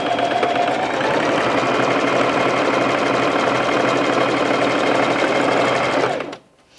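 A heavy-duty Bernette 05 Crafter sewing machine sews through four folded layers of fabric, humming loud and steady at close range for about six seconds before stopping abruptly.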